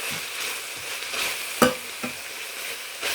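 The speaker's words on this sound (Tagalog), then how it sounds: "Gisa-gisa. Yan. May sibuyas na't bawang yan guys." Onion and garlic sautéing with ground pork for a chayote dish, a steady sizzle with a few sharp scraping stirs of the spatula, close and moderately loud, no talking.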